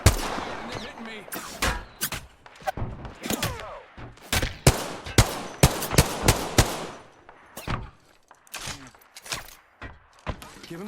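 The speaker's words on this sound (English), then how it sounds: "Getting shot at." Repeated gunfire from Apex Legends, loud sharp shots in irregular bursts spread across the whole stretch, close and punchy with brief pauses between volleys.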